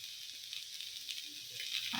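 Carrots frying in a pan with coriander powder and garam masala, giving a soft, steady sizzle with faint hiss throughout that swells slightly louder near the end.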